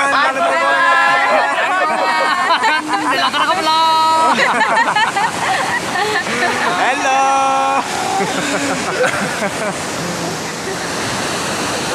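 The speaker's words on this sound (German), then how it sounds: "Wow, wir sind jetzt am Wasserfall angekommen." Ravana Ella waterfall in the Sri Lankan jungle rushes in a steady broadband roar beneath close, lively chatter and greetings from several people.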